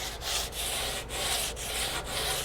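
Steady back-and-forth sanding on a fresh single primer coat sprayed on a Harley motorcycle part, a close, loud rhythmic rasp in about five strokes with no talking.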